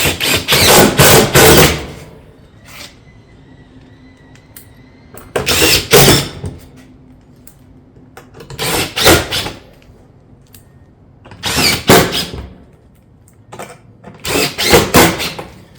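Fasteners are driven into metal roof rake panels in four loud, close bursts of a few seconds each, separated by quiet gaps with faint clanks between them.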